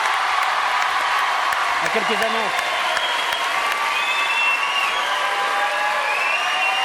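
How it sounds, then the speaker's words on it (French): Studio audience applauding on a French television talk show, dense and sustained clapping throughout with a few whoops, while someone speaks briefly over it. "Applaudissements pour eux"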